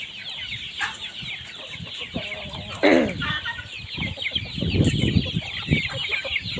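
Chickens cluck steadily around a rural village home in the evening at feeding time, with a sharper, louder squawk partway through and continuous busy fowl chatter throughout.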